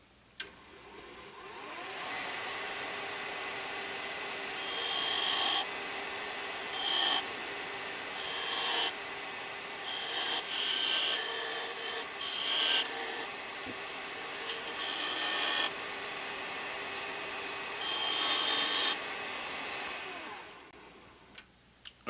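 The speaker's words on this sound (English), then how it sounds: "by going in perpendicular to the surface, I scribe lines as deep as I feel comfortable with." A hand tool scribing lines into a surface, heard as close scraping strokes that come in several bright bursts separated by quieter pauses, with no voices.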